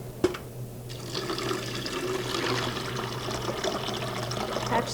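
Water poured into a soy milk maker while making almond, rice and oat milk, a steady splashing, trickling fill that runs throughout over a low constant hum, no talking.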